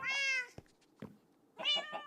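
A cat meows in the Minecraft video game: a long, clear meow, a few short clicks, then a second meow broken into several pitched bursts, loud and close with no voices.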